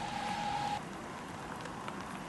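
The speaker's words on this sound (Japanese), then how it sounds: "まだ雨が降っています。" Steady rain falls at Uchiko station in Ehime, Japan, on a wet February day, a constant broadband hiss of rainfall close by with no voices.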